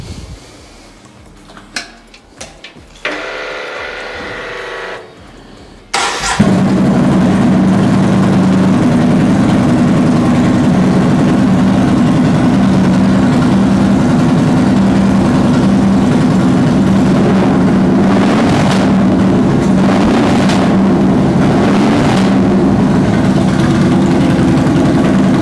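A Yamaha XV950 motorcycle with 17,855 miles cranks briefly, then its engine catches and settles into a steady, loud idle that runs on evenly without talk.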